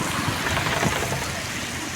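Monsoon rain falls steadily in a dense, even hiss, close and continuous throughout with no voices.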